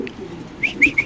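A pair of Andalusian pigeons, a female and a male, give a few short, soft coos close by over a quiet background.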